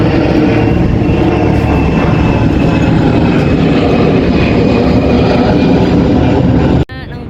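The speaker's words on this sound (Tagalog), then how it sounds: "Dinig mo yung mga dumadaan na eroplano." Steady loud broadband roar of aircraft passing overhead near a hotel's ground-floor buffet area in Manila, a continuous engine rumble filling the scene for nearly seven seconds before cutting off abruptly.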